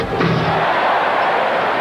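Arena crowd at the 1988 NBA Slam Dunk Competition roaring after a slam dunk by a 6'10" rookie, a broad sustained cheer that swells quickly and holds loud throughout.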